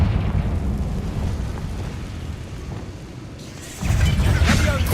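In Hogwarts Legacy, a Confringo spell blasts a barricade: a deep rumbling burst erupts and holds loud and rough near the end, following a stretch of lower game ambience and mechanical noise.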